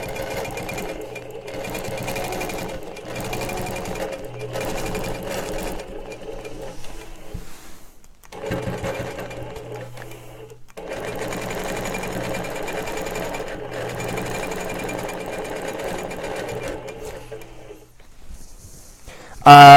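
An Innova longarm quilting machine stitches in the ditch, running in a series of bursts of rapid mechanical whirring with short pauses between runs and a final stop near the end.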